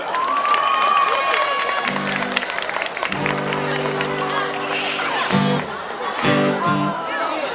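A crowd at a neighborhood festival gives a welcoming round of applause for a guest singer, steady clapping and some cheers mixed with music and a voice over the loudspeakers.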